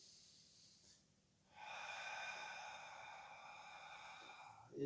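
A Pilates participant takes a deep inhale: after a brief pause, a long, soft, airy breath sound rises close to the mic and holds for several seconds.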